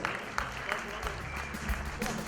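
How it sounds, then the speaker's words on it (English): An audience at an honours ceremony celebrating achievers applauds, a short burst of steady clapping with a voice briefly audible underneath. "Please give all of them a huge round of applause."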